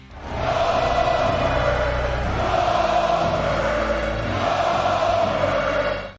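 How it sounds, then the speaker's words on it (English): A wrestling arena crowd in an animated movie chants in unison, a loud, rhythmic roar that swells in repeated waves and sustains throughout. "Just listen to this crowd."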